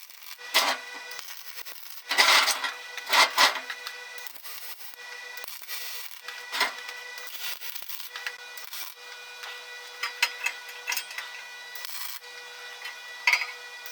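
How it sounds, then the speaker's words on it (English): A MIG welder lays short tack welds on a custom fireplace grate. Several brief crackling, sizzling bursts come at irregular intervals between quieter stretches, near and fairly faint. "So now let's put a tack here, here, and here, and then kind of just a couple more tacks on those over there."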